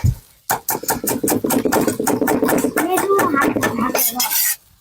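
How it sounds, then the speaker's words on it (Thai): A spatula clatters and scrapes in a wok as vegetables are stir-fried with thin rice noodles for pad thai, a loud, close and steady rhythmic clanking that runs almost without a break. "ใส่ผัก ใส่ผักเข้าไป"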